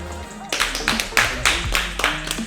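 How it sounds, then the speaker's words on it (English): A small group of people claps at a car meet alongside a 2020 Toyota Supra with a loud exhaust, several irregular bursts of hand claps close by, mixed with some chatter. "Can I get a round of applause, guys?"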